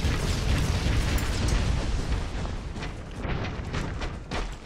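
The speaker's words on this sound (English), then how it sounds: "it looks like that side is blowing up" Explosions in the Broforce video game, a dense run of loud crackling blasts and rumbling booms, close and continuous without talk.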